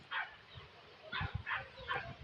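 A dog barks several times in short yips somewhere off at a distance on Hacienda San Agustin, faint under soft background noise and a few low voices.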